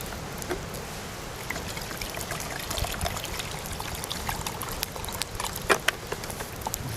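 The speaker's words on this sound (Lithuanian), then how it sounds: "pilsim toj vandens" Water pours into a pot holding meat and potatoes for a soup, a close, steady splashing stream with small patters and drips throughout.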